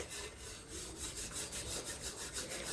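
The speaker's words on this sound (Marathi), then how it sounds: "आता आम्ही भांडी घासायला घेतलेलं आहे" Cooking pots and vessels being scrubbed by hand after a meal, a steady rhythmic back-and-forth scouring rub repeating close up, with no voices.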